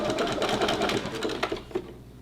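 Sewing machine stitching fringed jeans with beading, a close, rapid rattling run that slows into a few separate clicks near the end.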